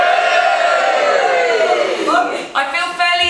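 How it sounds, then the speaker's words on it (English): A comedy-night audience at a Camden venue cheers loudly and continuously, a dense crowd roar that holds steady, then thins near the end as a voice breaks through. "could you cheer now if you hate the washing up?"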